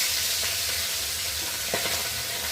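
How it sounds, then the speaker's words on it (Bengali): Small whole hilsa fish frying in a kadai, a steady bright sizzle and crackle of hot oil with occasional stronger spits, close and continuous. "তো চলো ফার্স্টে ভেজে নিই।"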